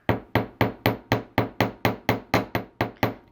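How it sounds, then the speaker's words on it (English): A hammer strikes jewelry wire for chandelier earrings in a steady rhythm, about a dozen sharp, evenly spaced metallic taps, close and clear with no talking. "if you can hammer, it'll just help lock in those bends"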